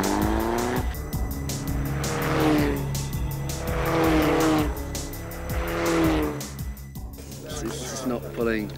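Single-seater Formula Ford race cars at morning practice scream past in waves of rising and falling engine revs, loud and close, with tire noise and commentary spoken over the top.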